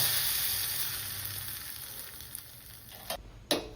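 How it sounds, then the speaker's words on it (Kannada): Tempering spices crackle in hot oil for a buttermilk kanakallate majjige huli, a steady close sizzle fading gradually, then broken by a couple of sharp spattering pops near the end. "ಈಗ ಇದಕ್ಕೊಂದು ಒಳ್ಳೆ ಒಗ್ಗರಣೆ ಹಾಕುವ"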